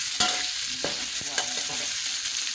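Pork liver stir-fried with sweet peppers in a hot pan, a steady loud sizzle under repeated scraping strokes of a spatula, with no voices.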